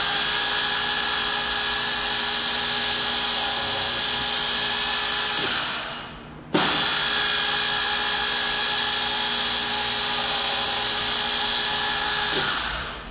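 A 2005 Conquest 23-spindle line boring machine runs with a loud, even whine, winds down briefly halfway, then starts again with a sharp jolt and keeps humming steadily before easing off at the end, with no talk.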